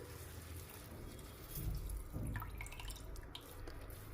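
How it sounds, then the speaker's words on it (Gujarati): Water drains and drips as a cloth bundle of freshly curdled paneer, made from milk split with lemon, is pressed by hand. It is quiet and close, with a couple of fuller gushes followed by trickling and dripping, and no talking. "હવે આ રીતે આપણે પોટલી વાળી અને દબાવી અને બધું પાણી આપણે નિતારી"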